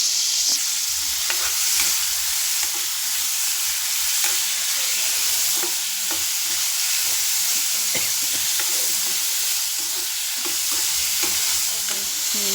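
Steady sizzling of chopped garlic, ginger, onion and green chilli frying in a hot pan for dal tadka, with a spoon scraping and stirring throughout, no voices.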